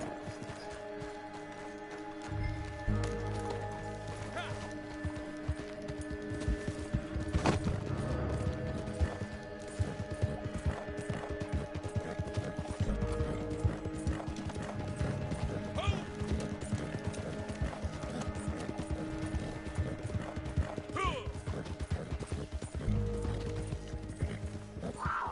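Steady clip-clop of horse hooves from Red Dead Online, with tonal music and a whinny in the background, continuing throughout.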